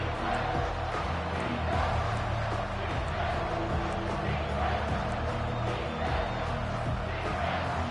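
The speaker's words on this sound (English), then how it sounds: "this crowd is tearing the lid off this place." A packed football stadium crowd roaring on third down, a dense, steady wall of cheering and yelling that stays loud throughout the whole stretch, with no clear voices standing out.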